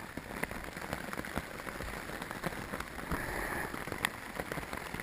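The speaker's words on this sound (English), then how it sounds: "This rain just came out of nowhere." Heavy rain pours down on a campsite with a tarp and hammock setup, a dense steady hiss of drops with scattered sharper hits, fairly faint and with no talking.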